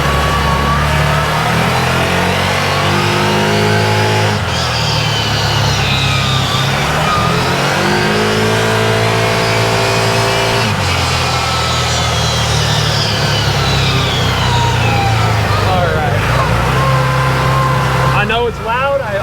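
An Odes 1000 X4 LT side-by-side runs loud and close on both cylinders, its engine revving up and down repeatedly in rising and falling sweeps while someone talks over the roar.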